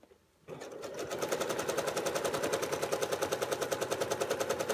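A sewing machine stitches quilted feathers across an 8-inch quilt block, starting after a brief quiet moment and then running in a fast, steady, evenly pulsing rhythm that stays close and loud throughout, with no talking.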